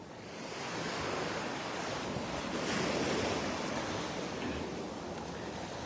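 Ocean waves wash continuously onto a beach, a steady broad roar of surf with wind noise blending in, no voices present.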